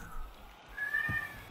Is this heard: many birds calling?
no